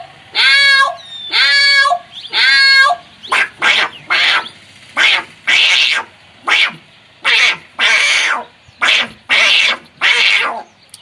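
A voice imitates a cat meowing, then cats fighting: three drawn-out, wavering meows followed by a run of short, harsh yowls and squalls in an uneven rhythm, loud and close with no other sound.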